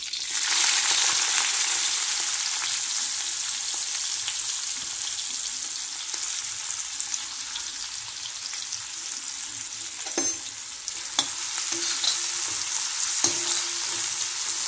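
A constant loud sizzle of onion and curry leaves frying in hot oil on an iron tawa, with a few sharp clinks and scrapes near the end.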